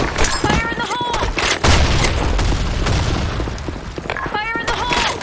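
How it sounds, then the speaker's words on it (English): Grenade blasts in the Broken City shooter, heavy booms landing amid rattling gunfire, with a strong thump near the middle and shouting voices cutting in around the explosions. "Fire in the hole! Grenade!"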